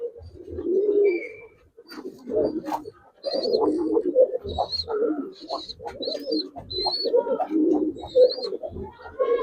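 Giribaz and coloring pigeons coo repeatedly in a loft, low rolling calls close by, with higher chirps and occasional bird calls mixed in throughout.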